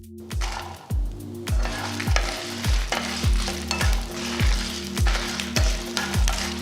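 Dried red chilies and large garlic cloves roasting in a pan, with a steady sizzle broken by repeated rhythmic scraping stirs about every half second, close and clear, no talking.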